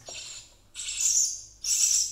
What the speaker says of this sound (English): These are wild baby birds.